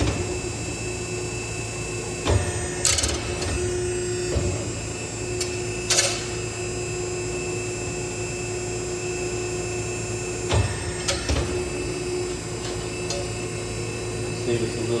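Metal corners are cut off for a Jeep battery box, with a steady hum of shop machinery and several sharp, brief cutting snaps spaced through the stretch, fairly close.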